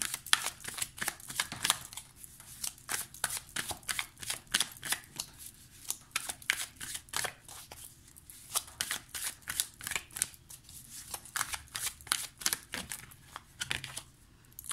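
A green magic tarot deck being shuffled by hand, rapid papery riffles and flicks in quick irregular bursts, close and fairly quiet, continuing steadily with brief pauses.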